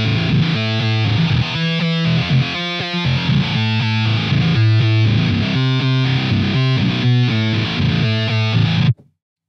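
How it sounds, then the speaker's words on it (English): A sound run through a guitar amp plugin, warm and distorted, with rhythmic chordal stabs pulsing over a sustained gritty drone before cutting off abruptly at the end. "So I want to add that more soft, warm sound of a guitar amp."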